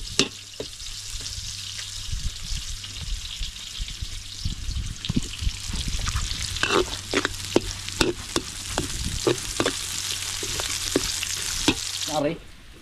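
Onions sautéing in a pan for a mutton biryani cooked outdoors on a farm, a steady loud sizzle with repeated sharp stirring scrapes and clinks through the middle, ending abruptly.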